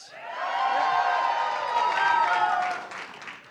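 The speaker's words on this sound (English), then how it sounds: "Give yourselves a hand" A rally crowd applauds and cheers with dense, sustained clapping and scattered whoops, loud and continuous before tapering off near the end.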